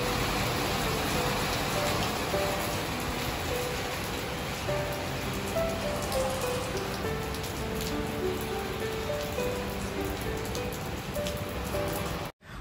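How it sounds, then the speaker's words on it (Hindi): Heavy rain pours outside, a dense, steady hiss of drops hitting surfaces heard up close and continuing almost unbroken for the whole stretch, with no talking. "बाहर बहुत ही मस्त बारिश हो रही है।"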